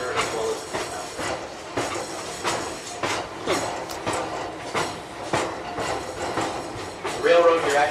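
A passenger train runs along the Pittsfield & North Adams line between Adams and North Adams, steady rumble with rhythmic clicks and clatter throughout, a brighter metallic squeal near the end, with a voice faintly under the noise.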